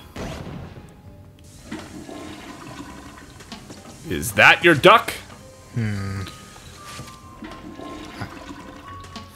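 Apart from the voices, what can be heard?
toilet flushing in the video game Luigi's Mansion 3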